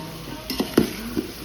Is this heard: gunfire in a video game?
no